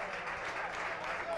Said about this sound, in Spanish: Aplausos del público para Ismael Maruja.